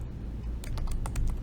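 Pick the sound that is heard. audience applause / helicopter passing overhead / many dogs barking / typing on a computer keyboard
typing on a computer keyboard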